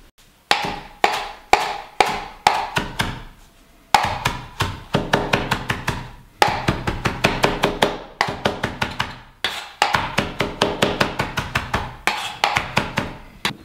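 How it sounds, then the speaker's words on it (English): Knife mincing cilantro on a cutting board for guacamole, with rapid bursts of crisp, close chopping taps in quick rhythmic runs separated by short pauses, loud and alone. "set that aside while you mince some cilantro"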